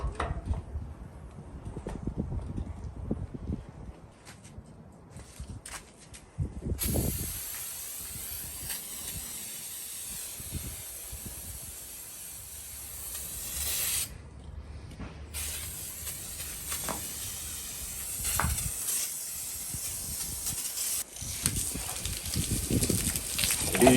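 Degreaser sprayed onto a non-running lawn mower in a workshop, heard as long, steady aerosol hissing bursts with brief pauses between them, fairly close and continuous over faint background noise.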